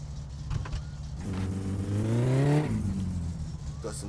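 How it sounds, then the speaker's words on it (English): A car engine in the driving game My Summer Car idles roughly, then revs up with a rising whine for about a second before dropping back, loud and close with no voices. "Got some power, this car now"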